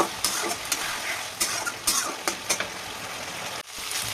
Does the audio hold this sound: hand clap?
no